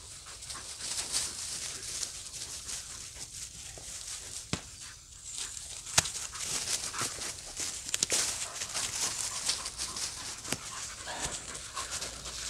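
Dogs moving about nearby, with panting, faint whimpers and paws scuffling in an outdoor camping setting, steady and fairly close with a few sharp clicks and no talk.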